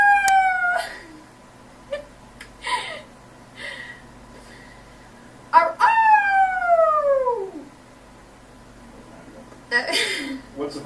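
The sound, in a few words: person imitating a wolf howl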